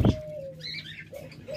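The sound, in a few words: caged birds calling, budgerigars and doves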